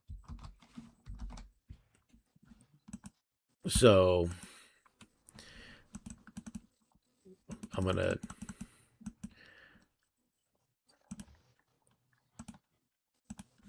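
Computer keyboard typing with clicking, used while checking flights, heard as scattered quick taps and clicks between bursts of nearby talk.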